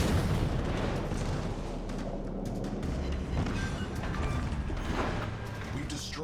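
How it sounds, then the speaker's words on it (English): An enemy cruiser blows up in the World of Warships naval game, heavy booming explosions and rumbling gunfire filling the clip with dense, continuous battle noise, with a voice speaking over it. "We've destroyed an enemy cruiser."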